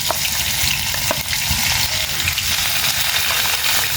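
Garlic and cumin paste hits hot oil in a pan and sizzles loudly and steadily throughout, with faint stirring clicks and no voices.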